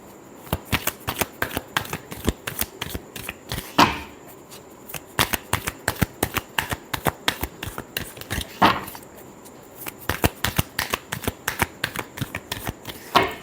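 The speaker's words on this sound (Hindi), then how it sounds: "Last shuffle." Tarot cards being shuffled by hand, a quick run of crisp riffling flicks in repeated bursts with short pauses between them, close up and without talk.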